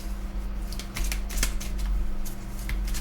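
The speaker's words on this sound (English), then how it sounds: "I've just got to shuffle the cards and just tune into it" Quick papery flicks and soft riffling of tarot cards being shuffled, irregular bursts over a steady low background hum.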